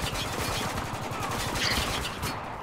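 Sniper rifle and other gunfire in the war shooter Spec Ops: The Line, a dense continuous barrage of rapid shots, loud and steady throughout with a brief sharper burst near the end.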